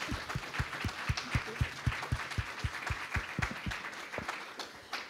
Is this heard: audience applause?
yes